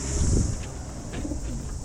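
Racing pigeons coo in their loft, soft low throaty calls repeating a few times close by over a steady background of hiss and wing shuffling.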